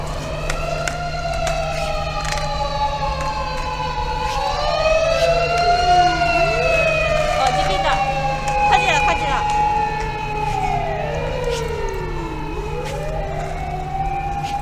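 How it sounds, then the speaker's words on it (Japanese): A fire engine siren wails through a street scene, its rising and falling tones sweeping repeatedly for the full stretch, fairly loud and sustained over a steady low hum. "なんか消防車"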